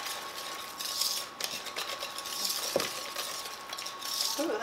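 Meatless pasta stirred in a pan with grated cheese, giving soft scraping and light utensil clinks against the pan, quiet and intermittent over a low background hum.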